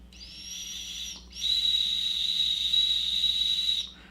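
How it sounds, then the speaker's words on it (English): A 1992 Toy Biz Banshee action figure's built-in whistle sounds twice as a thin, breathy, high-pitched tone, first a short blow and then a longer sustained one, close and otherwise alone. "That is the weakest whistle I've ever heard."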